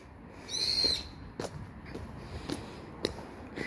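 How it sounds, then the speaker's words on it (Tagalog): A bird gives a short, high, clear call in Suzu no Mori Park, Asumigaoka, Chiba City, fairly faint, followed by scattered soft rustles and ticks in a quiet outdoor setting. "ay, may mga ibon."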